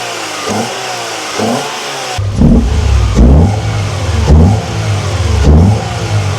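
A 1990s car engine fitted with a mock-up intake pipe, revved hard several times in close succession, loud and near, each rev rising and falling back toward idle.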